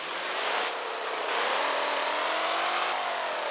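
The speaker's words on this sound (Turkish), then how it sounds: "Şimdi ben gaza yaparım arkadaşlar." A Tofaş car engine in the Car Parking video game revs hard with a loud, continuous, rising roar that surges several times.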